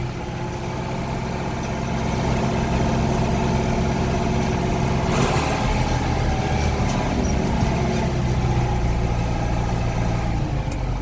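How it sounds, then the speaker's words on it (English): A Case 895 XL tractor engine runs steadily while the tractor is driven, a continuous low diesel drone with a brief louder rattle about midway, loud and close throughout with no talk. "Very easy and nice tractor to drive"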